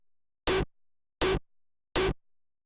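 A layered mid kick drum preset from the DOOMSDAY Serum pack hits three times at an even, moderate pace, each a short, dense, punchy thump with a brief tail, loud and isolated.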